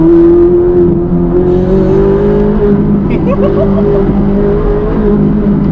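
Ferrari sports car cruising along a quiet road at about 52 km/h, its engine humming steadily and loudly from inside the cabin with a slight rise in revs, while occupants talk over it.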